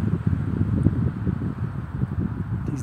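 Wind blows outdoors during a light-wind test flight of a homemade Tesslar kite, a steady low rumbling gust noise buffeting the microphone throughout.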